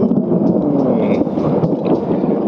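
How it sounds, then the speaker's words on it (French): Thunder rumbling during a storm along the pilgrimage route to Santiago: a continuous low, heavy rumble with wind buffeting the microphone, loud and unbroken throughout. "Avec l'orage en fait je commençais à marcher et je continue à marcher puis en fait il s'arrêtait pas de gronder, il grondait mais genre non stop."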